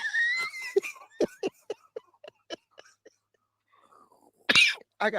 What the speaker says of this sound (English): You making me cough.